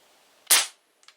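Single sharp crack of a Crosman 1377 pump air pistol firing a 5.5 grain pellet, a loud close snap that fades quickly, followed by a faint brief tick.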